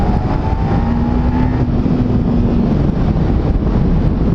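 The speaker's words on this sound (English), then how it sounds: "So let's hear that exhaust." Exhaust of a Kawasaki Ninja 300 SE motorcycle, a loud steady rumbling drone with a slowly shifting engine tone and wind buffeting the microphone throughout.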